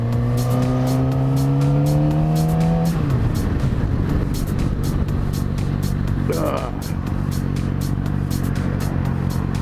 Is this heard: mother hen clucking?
no